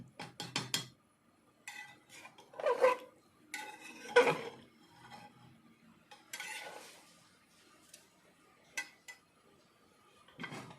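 A spoon scrapes and clinks against a pot as boiled meat cooked without oil is stirred, in short, irregular bursts of clatter separated by quiet gaps.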